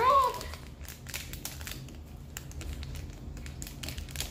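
Plastic crinkling and soft tearing as a squishy package is opened, close and fairly quiet, with continuous rustling and no talk.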